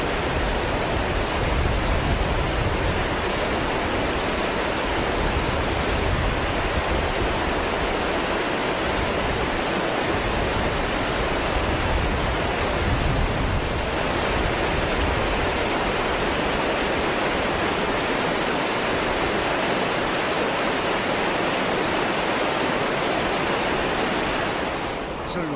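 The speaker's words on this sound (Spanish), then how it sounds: "el tramo de río que hemos elegido, el río Ara, en la zona de Broto" Rushing water of the Ara river near Broto roars continuously, a dense, steady wash of current over stones heard close up for the whole stretch.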